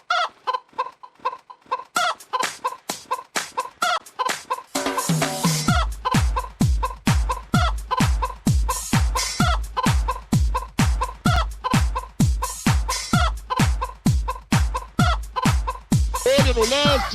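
Farm chickens cluck and squawk continuously and loudly, with a hen's rapid clucks at the start giving way to a dense run of rhythmic calls from nearby fowl, ending in a rising cackle.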